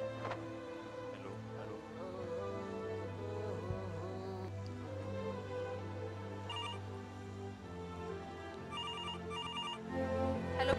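Telephone ringing as a call is placed to a son, a repeating electronic ring tone heard over continuous background music throughout.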